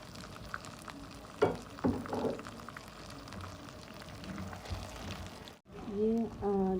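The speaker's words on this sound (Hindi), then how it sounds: "वो भी हम इसके साथ ही डाल के चिकन को भून लेते हैं।" Chicken browning in a pan with onion, garlic, ginger and green chili paste, a steady soft sizzle with a few clinks of stirring, broken by a brief pause near the end.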